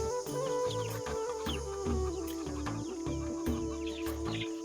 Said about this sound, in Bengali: আর আমার কিছু মুরগি আছে টাইগার মুরগি এই যে একটা টাইগার মুরগির মোরগ